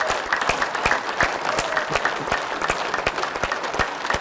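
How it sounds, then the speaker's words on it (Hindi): A group claps hands loudly and fast in a steady rhythm of sharp, close claps that keeps going for several seconds, as part of an energising exercise. "सो पहला है क्लैपिंग।"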